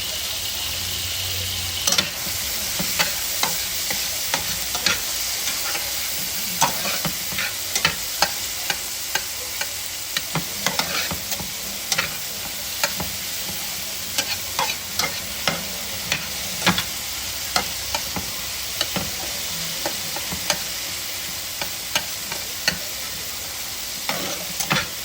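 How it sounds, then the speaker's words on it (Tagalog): Tomatoes fry in a pan with a constant loud sizzle, while a utensil scrapes and clacks against the pan in irregular stirring strokes throughout. "Lapit na naguluto na yung kamatis."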